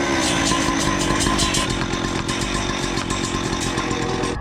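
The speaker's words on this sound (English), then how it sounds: "So grab the concrete saw once." Gas-powered concrete saw grinding steadily through concrete at a repair job, a loud continuous engine whine with rough cutting noise running throughout, close and unbroken.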